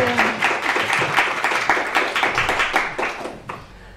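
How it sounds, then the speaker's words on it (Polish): Modest audience clapping at a book premiere for Ruiny, a small group applauding close by with distinct individual claps over about four seconds before tapering off. "Poproszę o wielkie brawa dla nich."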